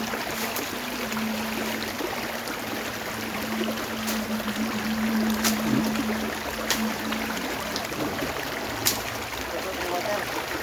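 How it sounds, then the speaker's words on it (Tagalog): Strong stream water flowing through a garden by a rice paddy, a continuous close rushing wash with a low hum beneath and a few faint clicks. "Kusog ang water. Kusog ang water."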